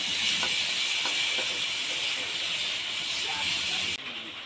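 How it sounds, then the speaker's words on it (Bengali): Cut potatoes fry in hot oil in a home kitchen, giving a loud, steady sizzling hiss that continues unbroken and then cuts off abruptly near the end. "এবার ওই তেলের মধ্যে কেটে রাখা আলুগুলো ভেজে নেব।"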